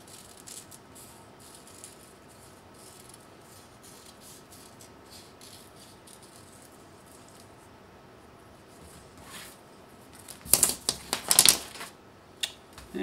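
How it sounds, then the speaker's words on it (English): Scissors snip through a fusible-backed fabric shape along a drawn line, faint quiet rustling first, then a short burst of sharper crisp cutting clicks close by near the end. "now I'm going to go ahead and cut out right on the line here"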